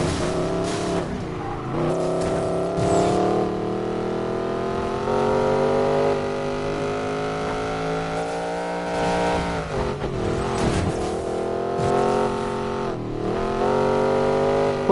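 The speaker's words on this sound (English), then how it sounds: "So giving the Regera a good test out here." A Koenigsegg Regera supercar in the video game Need for Speed Payback roars loudly and continuously, its engine pitch climbing and dropping through repeated revs and gear shifts, with brief tire squeals along the way.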